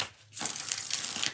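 Tarot cards being shuffled: after a brief quiet pause, a dense riffling, crinkly rustle of cards runs steadily for about a second, close and fairly loud.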